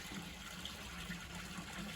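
Spring water streams from the Royal Spring in Lviv and runs off toward Pidzamche, giving a steady, moderately loud gush and splash with no voices.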